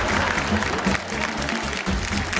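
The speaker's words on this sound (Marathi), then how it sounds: "आणि ही ताई एकदा जोरदार टाळ्या होत जाऊ दे." An audience on a Marathi television show set bursts into dense, sustained applause for the winner, loud and continuous from start to end.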